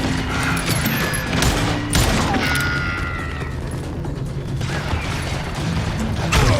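Gunfight in Call of Juarez: Gunslinger, a Western shooter game, with steady overlapping gunfire and crashing impacts over a busy, dense mix of game sound, louder bursts near the start and end.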